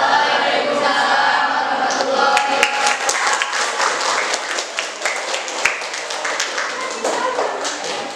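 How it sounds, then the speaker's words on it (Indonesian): A classroom audience gives a dense, sustained round of clapping after group 1's presentation, many hands close by with a few sharper claps standing out as the applause slowly tapers. "Kita kasih tepuk tangan untuk luar biasa di sana ya"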